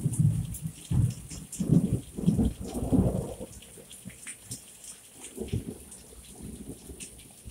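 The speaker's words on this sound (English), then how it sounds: "Thunder and lightning." Thunder rumbles repeatedly during a summer thunderstorm in Michigan, with several loud booming rolls early on that fade into lower, distant grumbles, all over steady rain falling on surfaces.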